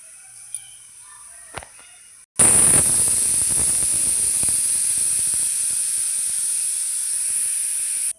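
A pressure cooker cooking dal suddenly releases steam in a loud, steady, close hiss that starts after a quiet stretch with a couple of faint clicks and carries on unbroken until just before the end.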